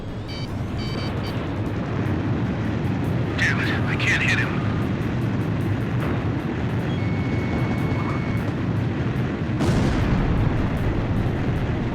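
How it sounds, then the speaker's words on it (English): Fighter jet engines in the Ace Combat 5 flight game, a steady loud roar with rumbling booms and a few sharp bursts, under ongoing radio chatter. "I just heard another jet engine"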